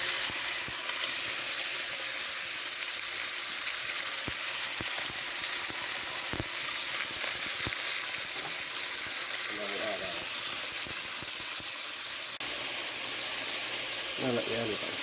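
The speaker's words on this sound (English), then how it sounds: "add a tablespoon of olive oil, as well as your chicken, and then a teaspoon of the Cajun seasoning. So it should make a nice warm sizzle over here." Chicken with Cajun seasoning sizzles in olive oil in a pan, a steady close frying hiss with faint scraping and stirring.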